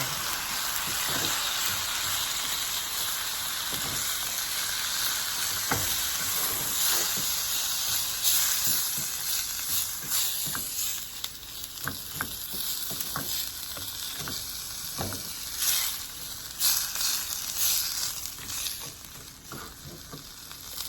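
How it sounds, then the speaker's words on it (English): Diced tomatoes in their juice sizzle and hiss steadily in a pan while being stirred, with scattered soft scraping strokes over the constant frying noise. "diced tomatoes with their juice. And we just give it a stir."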